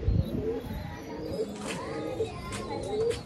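Soft cooing and faint calls from a pigeon chick and adult pigeons on a rooftop loft, quiet and fairly close, with light background noise and brief distant chirps.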